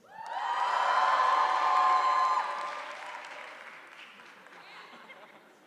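A comedy-show audience bursts into loud applause and cheering that swells for about two seconds, then gradually fades into scattered clapping and murmurs.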